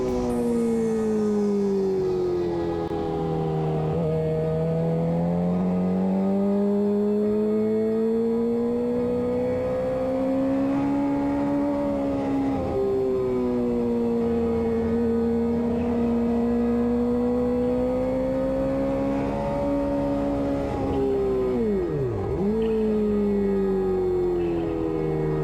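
A Vyrus 986 motorcycle engine drones continuously on an in-lap at a race track, its pitch rising and falling with throttle and gear changes and one sharp dip as it brakes into a turn, loud and close onboard.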